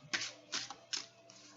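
Tarot cards are shuffled by hand in three or four quick, soft riffling bursts spaced about half a second apart, close and faint, with no talking.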